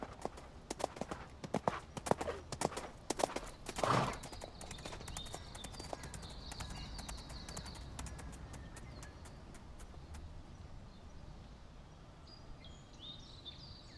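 Hooves of a ridden horse clip-clopping in a brisk, steady rhythm, close and clear at first and easing slightly later, with faint bird calls in the background and no talk.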